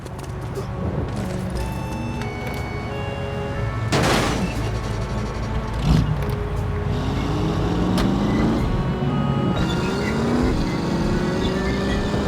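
A car engine drones steadily with rising pitch sweeps as it accelerates and shifts in the video game The Saboteur, with a couple of loud bursts like gunfire or explosions along the way.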